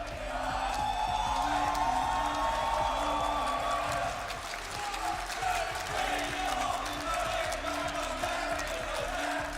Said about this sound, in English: I could let this crowd make some noise right now.